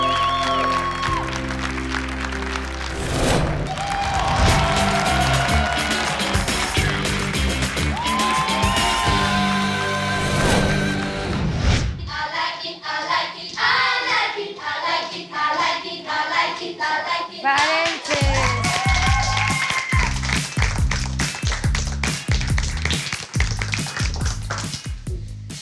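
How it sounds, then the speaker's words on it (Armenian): Studio audience at a televised Armenian talent contest applauding a pair of performers: dense, sustained clapping that surges loudly over stage music, thins briefly in the middle, then swells again into bursts of rhythmic hand claps. "Ծափարենք եւս մեկ անգամ Միլենայի եւ Գորի"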